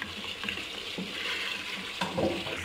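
Goat trotters in masala frying in a pan as a spoon stirs them, giving a dense close sizzle broken by brief scraping pushes through the short stretch, with no talking.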